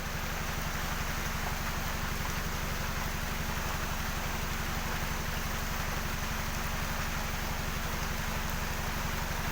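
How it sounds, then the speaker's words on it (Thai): Heavy storm rain falls as a loud, dense, unbroken hiss, with a low engine hum running steadily underneath. "ฝนตกครับ"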